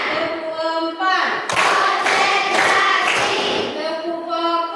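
Schoolchildren in a class answer a teacher's cue with a patterned round of hand claps, several sharp clustered claps between stretches of speech.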